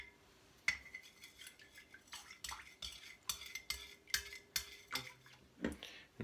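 A thermometer stirs water in a homebrew vessel with calcium added, making repeated clinking taps against the container in an uneven rhythm, close and fairly quiet with no talk.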